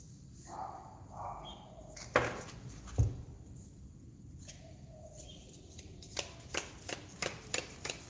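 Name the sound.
handling and shuffling tarot cards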